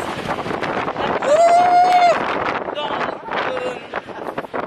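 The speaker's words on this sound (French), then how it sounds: "Oh my god, what a wind!" Heavy wind gusts rumble across the microphone while a person speaks and exclaims, and a high-pitched voice or whistle rises briefly above the noise.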